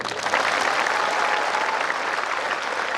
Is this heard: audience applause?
yes